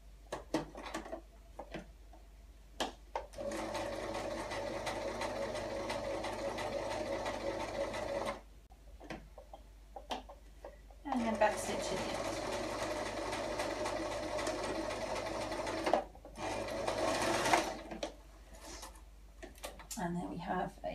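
A sewing machine stitches fabric in two long close runs and a shorter burst, a steady mechanical whir broken by pauses, with someone talking between runs.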